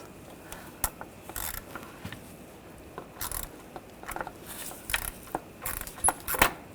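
A hose clamp on a coolant pipe of a 2.0L four-cylinder Volkswagen Tiguan is loosened, giving scattered metallic clicks and ratcheting taps at close range, with no talking.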